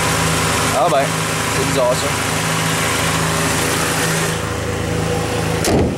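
A radiator cooling fan whirs steadily on a running engine of a BMX that is low on coolant, a loud, constant mechanical drone under the engine hum while someone speaks briefly in French.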